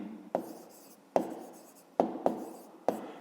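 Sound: writing on paper

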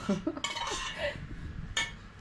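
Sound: plates being stacked on plates

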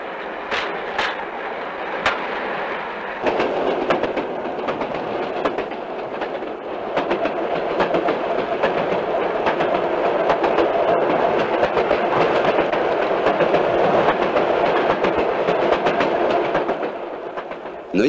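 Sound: freight train with crane flatcar running on rails

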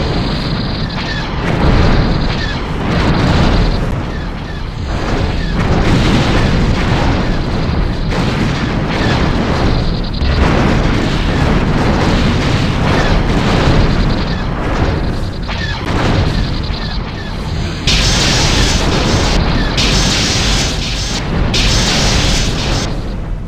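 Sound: torpedo explosions in a Star Trek vs TIE fighter space battle video game

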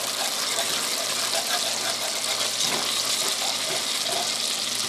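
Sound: pouring vegetable water and flour into pot

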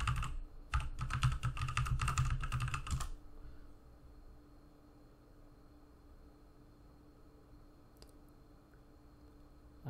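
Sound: typing on a computer keyboard

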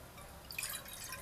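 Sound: water being poured into a cooking pot

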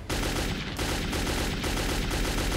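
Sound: AK rifle gunfire in Metro 2033 video game

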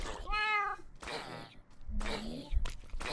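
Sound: cat meowing in Minecraft video game

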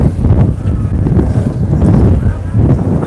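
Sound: strong wind blowing into the microphone

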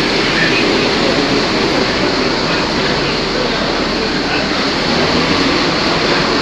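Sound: passenger train from Chelyabinsk arriving at Lazarevskaya station

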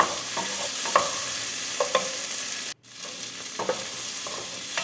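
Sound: stirring mixed vegetables with frozen peas in a pan

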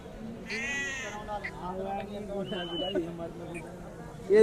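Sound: sheep bleating

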